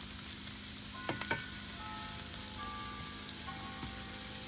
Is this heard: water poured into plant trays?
no